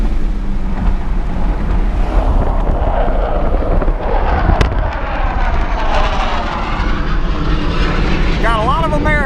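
Aircraft practicing overhead for the Wings Over Houston air show, a loud, continuous roar that swells and fades over several seconds amid outdoor wind noise.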